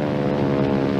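An SNJ training airplane flying aerobatics gives a steady, loud propeller-engine drone with strong harmonic hum throughout a brief stretch.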